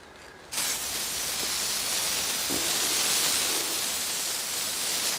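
Spray gun laying 2K clearcoat onto BMW E64 wing mirrors: a steady, close, breathy hiss that starts abruptly and holds at an even level for about five seconds before cutting off.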